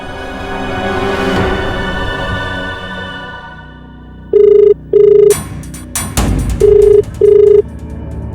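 An outgoing telephone call ringing back: a dialing sound followed by four loud, evenly spaced electronic ring tones, close and clear over a low background hum.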